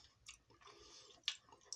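Kurut, salty dried cheese balls, being chewed close up, with soft wet squishing and crunching bites over about two seconds, a few sharper crackles standing out near the end.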